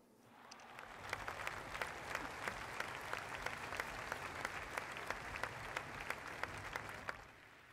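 Audience applause at a graduation ceremony for the Pôle Léonard de Vinci class of 2022, a steady sustained clapping from a large crowd in a hall, rising quickly and holding at an even level before tapering off near the end.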